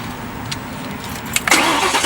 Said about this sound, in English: About to hear the Flowmaster catback exhaust on this Mustang GT.